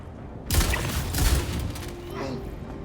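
Shotgun fire in Star Citizen: two loud, close blasts about three-quarters of a second apart, with a rattle of further impacts trailing off behind a speaking voice.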